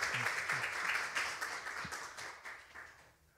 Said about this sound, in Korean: 네, 다시 한번 큰 축하의 박수 부탁드리겠습니다.